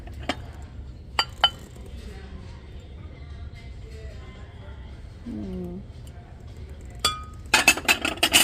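A glass mug and a small cat mug being handled at a thrift store, several sharp clinks and taps, a couple early and a cluster of rapid clinks at the end, with faint low background hum and brief voice.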